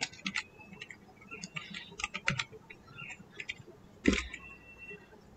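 Computer keyboard typed on while writing JavaScript code, a close series of irregular light key clicks with short bursts and pauses and one louder clack near the end, no talking.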